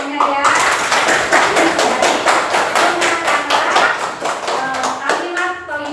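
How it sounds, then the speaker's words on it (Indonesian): Applause in a grade 5 madrasah classroom, many small hands clapping steadily and loudly for several seconds, with a teacher's voice and children's voices mixed in. "tepuk tangan untuk semuanya ya"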